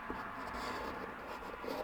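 Pen strokes scratch across paper during drawing practice, soft continuous scribbling with a few faint taps, quiet and close with no talk.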